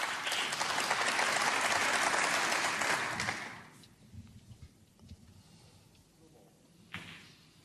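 Audience applause at a snooker match at the German Masters, loud and sustained dense clapping for about three and a half seconds, then fading to a quiet room with a few scattered sounds and a brief knock near the end.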